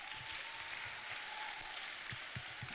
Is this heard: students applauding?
yes